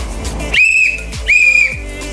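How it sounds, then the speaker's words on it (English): Two loud, sharp whistle blasts from a tour guide, each lasting about half a second, with a brief pause between them. "as you hear me whistling twice like this"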